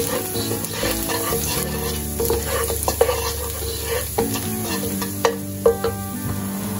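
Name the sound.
chopped garlic sautéing in oil in a kadai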